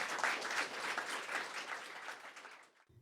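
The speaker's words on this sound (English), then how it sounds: "Please give our panelists a warm round of applause" Audience applause for the panelists at a Writers' League of Texas event in Austin, a steady, fairly soft wash of clapping that thins and fades out over about three seconds.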